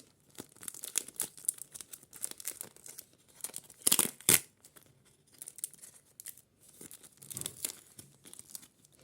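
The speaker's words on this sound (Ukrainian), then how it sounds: "Мені подобається, як ці наліпки здираються." Paper stickers are peeled off a sheet during a craft unboxing, with crisp tearing rips and crinkling, one loud double rip in the middle, all close and without talking.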